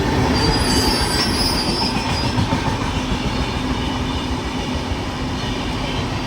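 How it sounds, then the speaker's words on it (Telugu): An express train runs through Sanathnagar station in Hyderabad without stopping, a loud, continuous close roar of wheels on rails with a high metallic squeal that fades slightly as it passes. "ఒక ట్రైన్ కూడా ఎక్స్ప్రెస్ వస్తుంది చూడండి."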